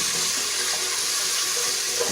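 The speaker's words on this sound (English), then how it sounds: "So first thing, we're going to add our onions" Onions go into a hot pan at the start of an omena dish, giving a steady, close crackling sizzle with a watery hiss that continues evenly for a couple of seconds without any voices.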